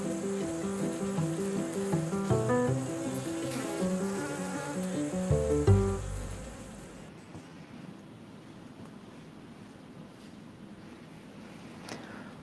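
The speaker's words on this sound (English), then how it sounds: "We have a lot of bees that are successful, and they're living in the trees now on their own." Honey bees humming around hives in an orchard-like beekeeping setting, a soft continuous buzz behind a louder musical passage that fades after a few seconds, leaving a faint airy drone.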